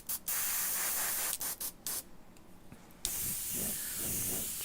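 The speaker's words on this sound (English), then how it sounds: "Just use the air from the airbrush" Airbrush blowing a steady hiss of air to dry a painted surface, with broadband spray bursts starting and stopping, then a continuous close, loud hiss.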